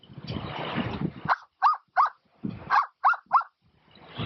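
A dog bark imitated with a handheld bird whistle: breathy huffs followed by two groups of three short, sharp whistled yaps, close and fairly loud, with no speech.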